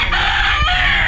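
A gamecock stag crows once, loud and close, in a short, strained call.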